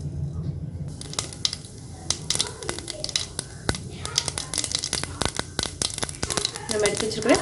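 Mustard seeds and urad dal crackle and pop in hot oil in a heated pan, sharp irregular snaps rising in density over several seconds, close and moderately loud.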